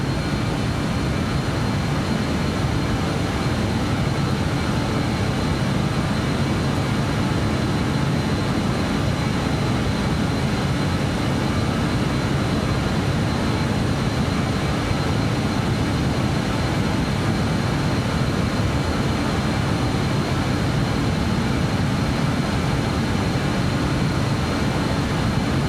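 Jet engines of a Justflight BAE 146-100 at climb power in Microsoft Flight Simulator 2020, a steady, loud broadband roar with a deep low rumble that holds unbroken throughout, with no talking.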